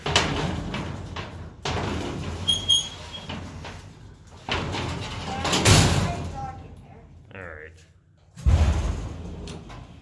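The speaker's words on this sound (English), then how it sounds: "So now we just shut the inner door." Inner door of a vintage 1963 Eastern hydraulic freight elevator at the USF Argos Center slides and clanks shut, with rattling bumps and a couple of sharp knocks, close by, while people talk over it.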